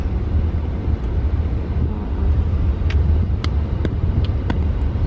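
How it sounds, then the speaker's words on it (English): Steady low road traffic rumble while heading from Dubai toward Sharjah in congested traffic, heard from inside a taxi with a few faint clicks and ticks over the constant engine and road drone. "There's traffic now."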